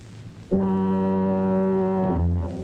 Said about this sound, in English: the only sound is the endless bleat of the foghorns, warning ships of a rocky shore